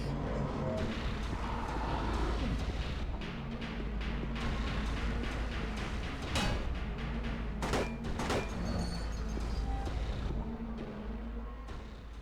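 Gunfire in the horror video game Silent Hill 2: several sharp, loud shots ring out over a dense, rumbling game soundscape with a steady low drone.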